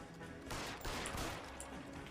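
Gunfire crackles in rapid, dense bursts during a shootout in the video game L.A. Noire, loud and sustained over a couple of seconds with no talk.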